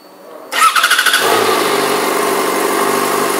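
A 2011 Yamaha FZ6R with factory exhaust cranks with a quick, rapid stutter, catches loudly and settles into a steady, close idle.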